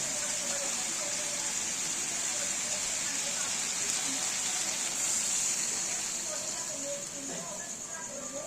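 Water poured into white potato curry as the potatoes fry sets off a loud, continuous gushing hiss that holds evenly for the whole stretch before easing slightly at the end.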